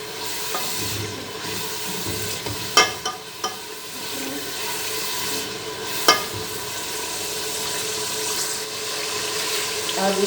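Ginger garlic paste sizzles and fries steadily in a hot pan for a quail dish, a continuous crackling hiss with a few sharp clicks of stirring, close and fairly loud with no talking.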